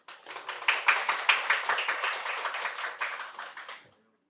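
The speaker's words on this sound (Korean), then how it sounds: "큰 박수로 환영해 주시기 바랍니다" Seminar audience at an open data forum applauding to welcome a panel speaker, a brief burst of moderate clapping that starts abruptly, holds steady and tapers off to silence, with no voices over it.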